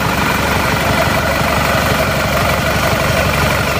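A repaired Isuzu D-Max diesel engine idles steadily at roughly 750 RPM, a loud, even, continuous rumble with a faint knocking texture and no speech over it.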